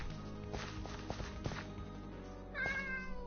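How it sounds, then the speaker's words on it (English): A cat in Minecraft meows a few times against soft footstep-like thuds, with one clearer rising meow near the end, fairly close and without talk. "Here, kitty cat. Here, kitty cat."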